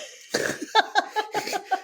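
A harsh, hacking fake cough on a phone call: a rapid run of six or seven sharp, close coughs in a choppy rhythm, with no other talk.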